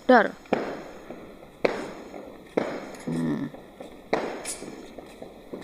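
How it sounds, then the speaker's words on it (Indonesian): Sharp firecracker bangs burst out one after another, four or five loud cracks spaced about a second apart, with a person talking between them. "Dor kalau mercone lekas mbledos."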